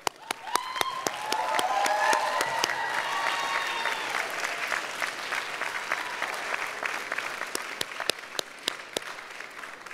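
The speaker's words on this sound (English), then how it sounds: "I'd like you to stand and to thank them by applauding" Graduates at a commencement ceremony stand and applaud their family and friends, a broad wash of clapping from a large crowd with some cheering and a few loud nearby claps standing out.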